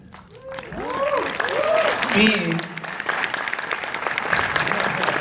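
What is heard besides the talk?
audience applause for Donnie Yen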